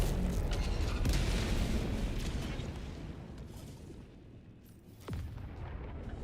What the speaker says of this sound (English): I do think the barrage helped